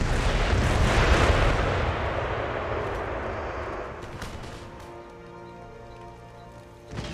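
Heavy cannon fire in an Empire: Total War siege battle: a long rolling blast and rumbling impact against a fortress wall that slowly fades into a lower sustained roar of battle noise.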